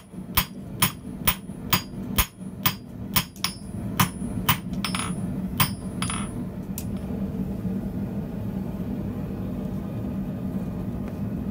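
Hammer blows ring out on copper and steel over an anvil that jumps on soft mats, a dozen or so bright, evenly spaced metallic strikes over about six seconds, then a steady low mechanical hum continues alone.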